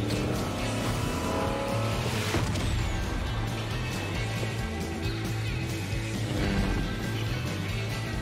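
Cars driving in the video game Fortnite, a steady engine drone with tire noise that runs continuously and loud throughout, mixed with game sounds and without a pause.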